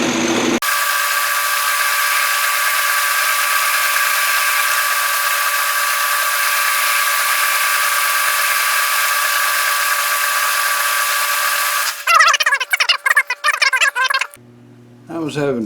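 A lathe takes a cut on a gear cutter arbor, reducing its diameter and cutting a shoulder back along its length. A steady, loud, even machining whine runs for about twelve seconds, then stops and gives way to a few brief clattering sounds.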